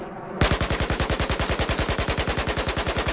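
AK-12 rifle in Battlefield 4 fired from the hip at a wall: after a brief quiet moment, a loud, rapid, evenly spaced automatic burst runs continuously to the end.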